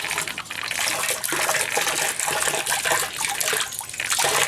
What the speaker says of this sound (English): the pump's running right now, and all the water is coming back to our main catch basin